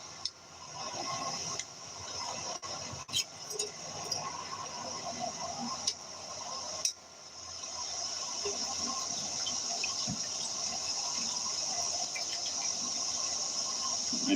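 Water is poured steadily into a pot to cook rice at an outdoor woodland camp, a continuous splashing fill that grows fuller and steadier, with a few knocks and clinks of handling early on.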